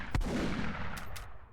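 A golden gun fires in a pixel-style video game. A single loud, punchy synthetic shot is followed by a couple of fainter quick pops, with no talk.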